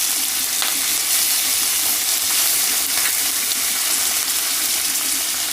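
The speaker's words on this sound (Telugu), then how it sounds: "ఎండుమిర్చి కొంచెం వేగిన తర్వాత కరివేపాకు" Dried red chilies and curry leaves fry in hot oil, a constant close, bright sizzle and crackle with occasional sharper pops and no talking.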